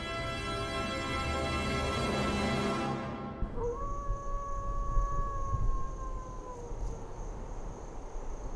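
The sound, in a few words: wolves howling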